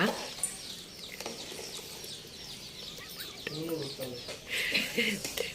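Free-range country chickens cluck softly while scratching around for food, with scattered close clucks and calls over a busy outdoor background, and a brief burst of bird chatter near the end.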